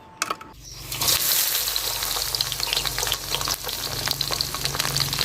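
Edible insects, egg-laden bugs with lemongrass, frying in hot oil, a loud, steady crackling sizzle close by after a brief clatter at the start, with bursts of popping throughout.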